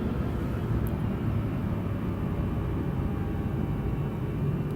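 A light aircraft on a landing approach between Exeter and Bristol gives a steady, close cabin rumble of engine and airflow, with no voices over it.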